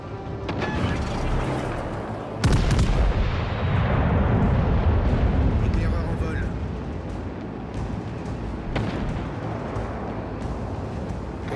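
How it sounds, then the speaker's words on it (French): Heavy naval gun salvos boom from warships in World of Warships: Legends, with loud broadband blasts around 2.5 seconds and a sustained rumbling roar, later sharper cracks, under French voice commands. "Tous les bâtiments, concentrez le tir sur la cible."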